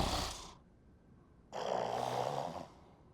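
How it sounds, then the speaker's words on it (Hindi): Two slow snores close by from a woman: a short raspy breath, a quiet pause, then a longer, louder rattling snore. "ये तो खर्राटे लेने लगी"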